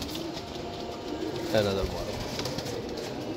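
Pigeons kept by a breeder coo softly in the background while someone talks nearby, with one brief louder burst of sound partway through.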